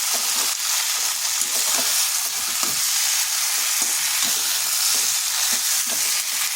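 Masala for a cauliflower, potato and egg curry sizzles steadily on low heat, with a spoon scraping and stirring through it in a loose repeating rhythm, close and continuous with no talking.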